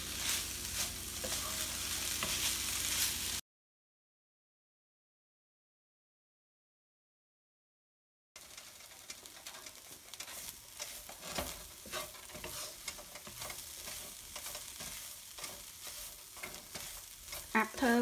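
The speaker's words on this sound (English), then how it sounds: "After we stir fry it about 15 minutes on medium high heat, the pork is dry up and it's done." Pork stir-fries over medium-high heat in a pan while being cooked down into Cambodian dried pork flakes. A steady, dense sizzle with stirring scrapes is broken by several seconds of silence, then resumes.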